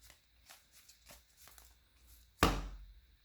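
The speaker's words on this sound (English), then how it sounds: "I just want to shuffle just so people don't think I try to stack the deck" Soft rhythmic riffling of a trading card game deck being shuffled, faint and close, then a sharp louder burst of cards snapping together near the end.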